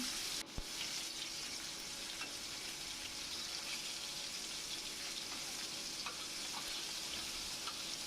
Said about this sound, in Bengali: মাছগুলো দিয়ে আমি ভালোভাবে উল্টিয়ে পাল্টিয়ে লাল লাল করে আমি ভেজে নিব